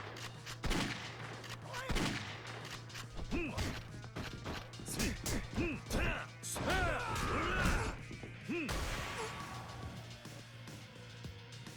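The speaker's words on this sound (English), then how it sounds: "this really is a shoddy shotgun" Shotgun blasts from the Yakuza 3 video game, several loud booming shots scattered through a busy fight scene with crashes, impacts and grunts, mixed with steady background game music.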